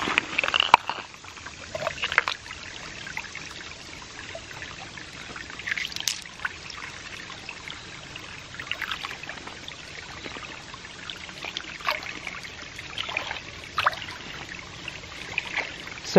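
Creek water trickling and pouring into a simple pipe intake weighted with a couple of rocks in the woods, a steady low splashing flow with a few brighter splashes, no talking.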